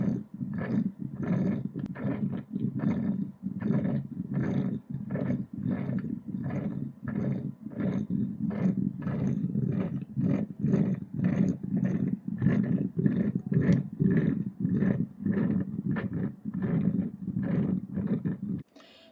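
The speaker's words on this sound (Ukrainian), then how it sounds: "Тільки послухайте, як вариться кава наша." Rhythmic gurgling and sputtering from an aluminum stovetop coffee pot, steady bursts repeating about once per second, close and fairly loud with no talking.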